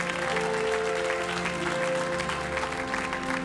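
Church congregation clapping and cheering in praise of God during a French-language sermon, a dense, steady wash of applause with a faint crowd murmur throughout.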